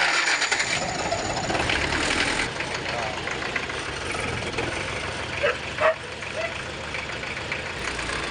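A Wrangler-type jeep engine idles with a steady rumble throughout, close by, while a few faint voices and small clanks come and go.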